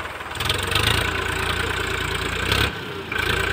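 A tractor engine idles close by in a farm field, a steady low rumbling chug that briefly dips and surges around the middle before settling back to its even throb.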